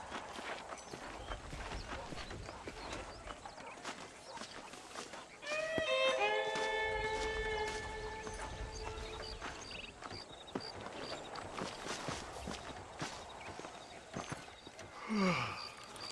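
A horse is ridden in Red Dead Redemption, with hooves clip-clopping in a steady rhythm beneath ambient game noise, a bright musical chime passing midway and a brief whinny-like cry near the end.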